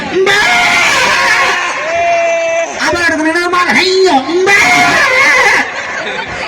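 A voice imitates goats screaming as they are tossed up and land, giving loud, wavering, bleating cries in quick succession that rise and fall over several seconds.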